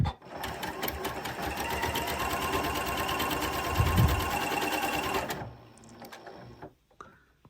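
A Janome Continental M6 sewing and quilting machine stitches in a steady, fast mechanical whir with a rapid needle clatter for about five seconds, then slows and stops, leaving a few faint clicks.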